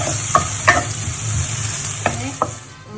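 Garlic and ginger fry in a pan with a continuous soft sizzle, while a utensil stirs and scrapes a few times, giving brief clinks and scrapes.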